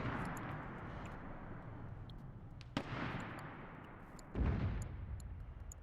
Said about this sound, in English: Something heavy shooting.